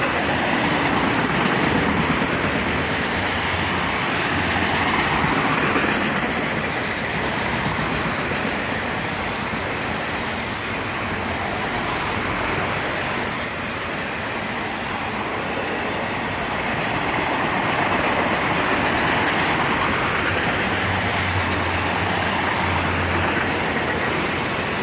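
A long freight train with distributed power locomotives rumbles steadily past at close range in Carlisle, wheels clacking and squealing over the rails, with roaring swells as the locomotives go by, continuous for the whole stretch.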